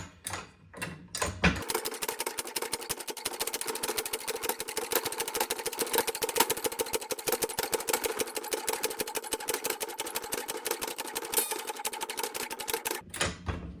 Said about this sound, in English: we're going to pump it up and see how it does